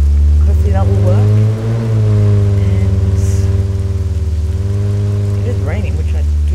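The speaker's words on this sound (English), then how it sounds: "And it is raining, which I do enjoy the most." Steady rain in the military sandbox game Arma 3 hisses evenly across the whole stretch, layered over a constant low engine-like drone with no break.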